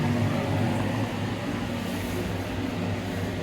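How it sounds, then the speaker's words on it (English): A noisy bathroom extractor fan in a basic hotel room in Antalya, Turkey, gives off a steady droning hum and whir, fairly quiet and continuous, with no talking. "Very noisy fan."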